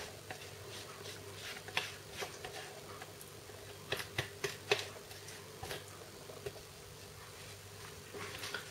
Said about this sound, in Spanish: Rebañamos bien con la lengua de silicona